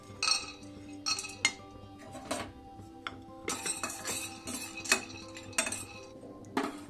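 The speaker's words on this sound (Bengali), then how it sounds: "বাদামগুলো থেকে একটু চটপট আওয়াজ হচ্ছে" Peanuts dry-roasting in a hot wok, giving off scattered crackles and sharp, hard clinks and rattles against the metal, coming in irregular bursts at moderate loudness.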